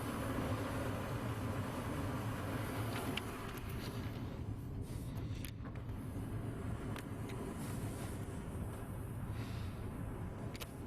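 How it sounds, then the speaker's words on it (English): A furnace blower motor runs with a steady, even whoosh and hum that holds constant throughout, close by, with no speech. "Blower motor's on."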